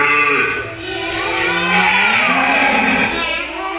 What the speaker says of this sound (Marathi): म्हैस